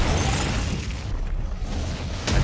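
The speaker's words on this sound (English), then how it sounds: "it was an explosion of flame, then all of these pieces that look like pieces of ice shooting up behind" A special effects explosion of flame on a frozen-lake film set gives a loud, sustained roaring rumble that surges again at the end, with no voices over it.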